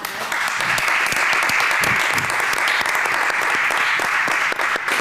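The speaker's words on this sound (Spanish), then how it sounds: "no estamos acostumbrados a los aplausos" Sustained audience applause fills a panel session at a forum on sport for people with disabilities, a dense, steady wash of clapping held at full level for the whole stretch.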